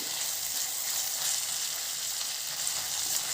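Fresh coriander and spices frying in a pan for a raw papaya curry paste, an even, continuous close sizzle with soft stirring texture throughout and no voices.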